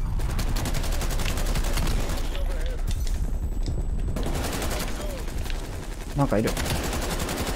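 Krig 6 rifle fire in Call of Duty: Black Ops Cold War comes as rapid, rhythmic automatic bursts that pause briefly and resume, with a player talking over the shooting.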